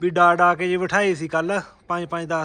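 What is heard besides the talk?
No everyday noises stand out.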